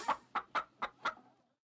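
Chickens in PAW Patrol Rescue World cluck five times in a quick, evenly spaced series, close and clear with no other sound.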